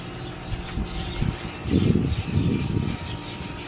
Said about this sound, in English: So I'm going to continue just scuffing these up